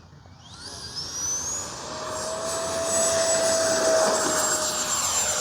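An FMS Rafale 80mm ducted-fan RC jet spools up and takes off from grass, its high-pitched turbine-like whine climbing steadily in pitch and loudness, close and sustained.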